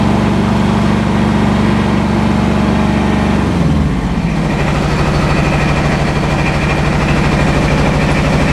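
A tractor engine idles inside a shed, a loud steady low rumble that shifts to a lower, deeper chug about halfway through and keeps running evenly to the end.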